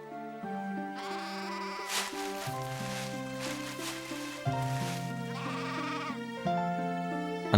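Lambs bleating in a repeated series of wavering, tuneful cries, close and clear, one call after another without pause.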